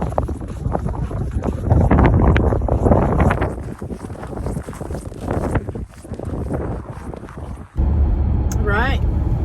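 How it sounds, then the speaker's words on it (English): Wind gusts buffet the microphone outdoors on a hiking trail, a loud, steady rushing roar that swells and dips throughout, with a brief drop near the end before resuming. "it was a little bit windy"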